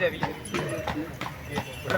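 Horse hooves clip-clop in a steady rhythm on a hard surface at a Ukrainian wedding procession on horseback, with voices murmuring in the background.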